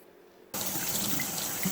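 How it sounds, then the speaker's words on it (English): Cold tap water starts gushing into a sink after a half-second of quiet, a steady close rushing stream used for rinsing sausage casing. "So you get some cold water running,"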